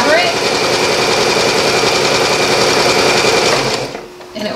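Sewing machine stitching fabric, a loud, close, steady mechanical whir running continuously for a few seconds before briefly stopping and starting again.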